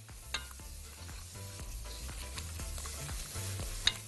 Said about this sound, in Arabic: نسخن الصلصه كويس، ننزل بالطماطم